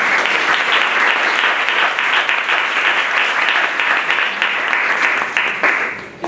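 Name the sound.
audience applause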